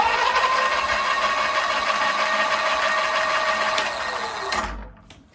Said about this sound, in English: here's what the Expedition motor sounds like. This one is the louder version of the 750 watt.